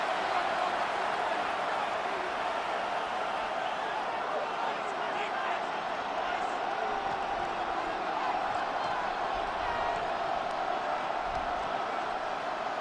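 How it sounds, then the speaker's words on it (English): Steady stadium crowd roar from the Madden NFL 26 football game, a dense continuous wash of many voices that stays at an even level throughout, with no individual voices standing out. "Well, this crowd into it now."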